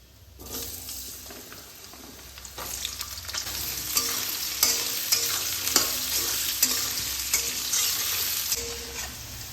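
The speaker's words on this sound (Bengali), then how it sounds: "এবার এই একই তেলে আমি সামান্য কালো জিরে দিয়ে দিলাম আর আলুগুলোকে হাই ফ্লেমে ভেজে দেব" Potatoes with black cumin frying over high flame in oil already used for aubergines, a loud hissing sizzle rising after a quiet start, punctuated by repeated spatula scrapes and clinks, close up with no talking.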